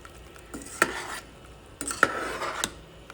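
A spoon stirring blended dal into sambar in a pot, giving a few soft scraping and clinking strokes, with two sharper knocks against the metal in quiet surroundings.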